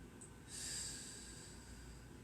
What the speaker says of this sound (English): 3 more deep breaths here.